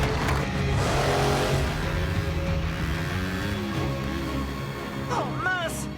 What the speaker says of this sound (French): Mettez les gaz au maximum!